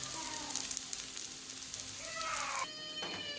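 Food toasting in oil in a pan on a stovetop gives a steady soft sizzle, with some faint tonal background noise.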